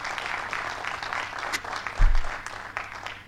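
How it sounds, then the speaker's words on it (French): Audience applause fills the space after a talk on preventing hamstring muscle injuries, a dense steady clapping that holds throughout, with a low thump near the middle. "je vous demande encore une fois d'applaudir fort"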